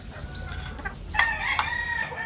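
Hens clucking and crowing close by, a few overlapping bird calls with a faint background hum, no talking.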